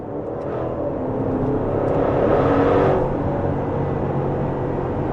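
A Maserati Levante Trofeo SUV with a 590-horsepower engine on an open highway: a steady engine drone with exhaust rumble, swelling briefly louder midway as it accelerates, then settling back to an even cruising hum.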